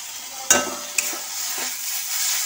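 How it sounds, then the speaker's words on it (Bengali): Fried water lily stems with poppy seeds are stirred in a pan, two sharp spatula scrapes standing out over a steady hiss of hot oil. "এই যে পোস্ত দিয়ে দিলাম এবার আমি নাড়াচাড়া করে নামিয়ে দেবো"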